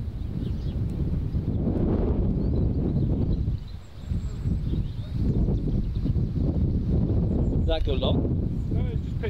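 Strong wind gusts across an open golf course, a loud and steady low roar of wind buffeting the microphone, with a brief lull partway through.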